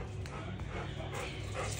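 A dog makes soft whimpering, panting and yipping sounds close by, brief and intermittent over a busy indoor background.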